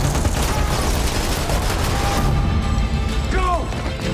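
Dense war-film gunfire and explosions from a trailer about a Nazi-era resistance mission fill a loud, continuous battle din, with faint shouted voices buried in the noise.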